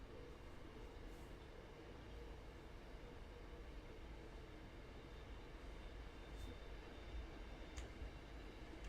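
A locomotive in Train Sim World 5 on the MBTA Framingham/Worcester line accelerates at full throttle, giving a steady, continuous low engine roar and rail rumble that holds level and fairly faint throughout.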